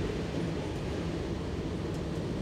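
Steady rumbling roar of an RER train riding through Paris, heard from inside the carriage as a continuous, even wash of rail and motor noise with no talking.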